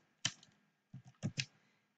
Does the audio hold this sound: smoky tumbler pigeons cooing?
no